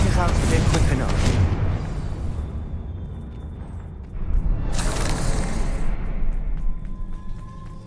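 A Confringo fire spell blasts in Hogwarts Legacy. Two big roaring bursts swell and fade, one at the start and one about halfway through, over game ambience, with a voice speaking in between.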